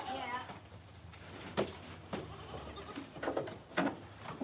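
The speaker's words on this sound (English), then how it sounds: "Our goats are just for pets." Pet goats bleat on a family farm, several sharp nearby calls scattered over a few seconds, with people talking in the background.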